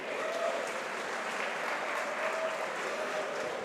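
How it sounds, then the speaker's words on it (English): Steady applause from a crowd at a Guild Ball world championship semi-final at SteamCon, a continuous moderate clapping wash that holds evenly throughout. "Round of applause for Steve."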